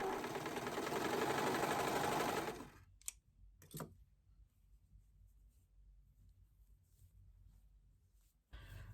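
A sewing machine stitches a sleeve onto a knit wrap dress, running in a loud steady whir for about two seconds and then stopping, followed by a couple of sharp clicks and faint handling until a brief restart at the end.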